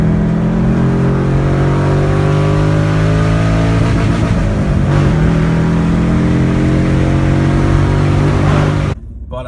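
A Nissan 350Z's 3.5-liter engine revs hard and loud up close, a sustained throaty roar with rising and falling tones that cuts off abruptly near the end.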